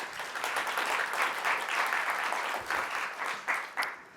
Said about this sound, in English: let's have a round of applause for Jacky.